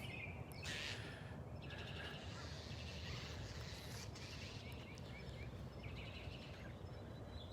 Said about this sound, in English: Aren't those birds something else?